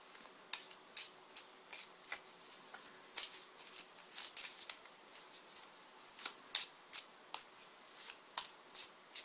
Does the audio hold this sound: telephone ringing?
no